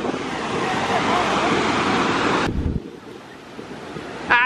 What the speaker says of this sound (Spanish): venimos un ratito a caminar aquí a la playa, yo y Karina.